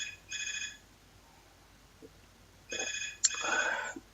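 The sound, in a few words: phone ringing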